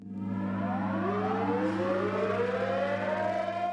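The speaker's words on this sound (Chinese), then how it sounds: "辽宁省全省14个城市同时拉响防空警报" Air-raid sirens wail across Liaoning cities at a Mukden Incident memorial, a loud sustained rising tone over a steady low drone, continuous and without pause.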